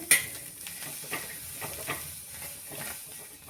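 Small bitter gourds frying in a pan, a dense, crackling sizzle and hiss that runs steadily throughout, close and moderately loud, with light stirring scrapes and no voices.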